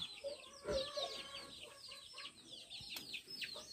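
Chickens cluck and chatter in quick, overlapping bursts, with a few louder squawks, fairly close and steady throughout.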